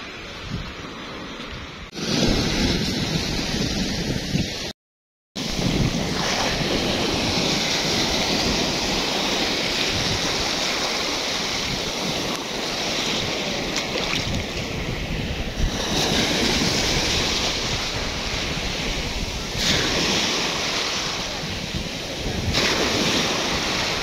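Sea waves breaking on the Crimean shore below a mountain, a loud continuous roar of surf with rolling washes, close and constant, overlaid with heavy wind buffeting.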